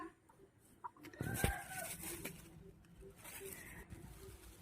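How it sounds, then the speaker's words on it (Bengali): Chickens feeding in a yard cluck softly and intermittently, with one louder squawk near the start, heard quietly alongside a person talking. "উঠানে মুরগি খাচ্ছে"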